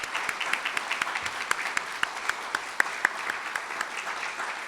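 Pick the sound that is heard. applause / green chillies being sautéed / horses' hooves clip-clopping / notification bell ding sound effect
applause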